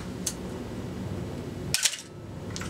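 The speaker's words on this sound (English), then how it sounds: "I'll show you the shutter sound so you can hear how loud it is" A camera shutter clicks twice with short gaps between, crisp mechanical snaps heard over a steady low room hum, part of a look at street photography camera gear.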